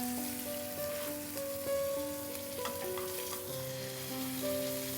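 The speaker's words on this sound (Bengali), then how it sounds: "এখানে শুধু আমরা একটু ভেজে নিচ্ছি উপরে কালার আনার জন্য" Meat sears in a hot pan to brown its surface, giving a dense, steady sizzle and crackle throughout, close and fairly loud, with faint tonal sounds in the background and no voices.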